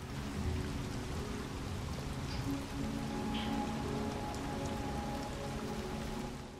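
Steady, dense rainfall in the video game Detroit: Become Human, a constant hiss of drops pattering on surfaces throughout, with no voices over it.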